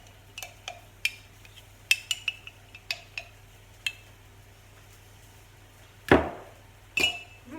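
A spoon clinks against a bowl while cake ingredients for an eggplant cake are stirred together, giving scattered bright taps and knocks with a heavier scrape and clunk near the end, close and otherwise quiet.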